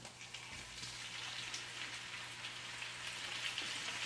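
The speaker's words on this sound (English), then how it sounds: "I'm going to reduce the heat to about halfway, and I'm going to put in my shrimp." Butterflied shrimp fry in a pan over medium heat, giving a steady, soft, even crackle and sizzle that runs without a break and with no voices.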